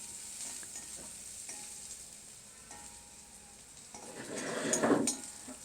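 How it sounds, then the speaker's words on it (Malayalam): Onions frying in a pan with mustard seeds and curry leaves for a Kerala-style drumstick leaf thoran, stirred steadily with a soft sizzle that swells louder near the end. "ഇനി നല്ലപോലെ ഉള്ളി ഒന്ന് മൂക്കുന്നവരെ നല്ലപോലെ ഒന്ന് ഇളക്കിക്കൊണ്ടിരിക്കുക കേട്ടോ"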